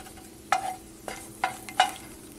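A spoon stirs food frying in a pan while cooking Mexican lentils, with four distinct scraping strokes over a soft, steady sizzle.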